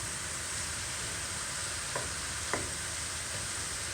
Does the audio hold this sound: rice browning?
yes